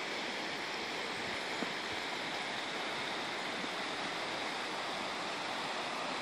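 Little Wenatchee River streaming steadily past, a constant close, full rushing of water with no pauses and no voices.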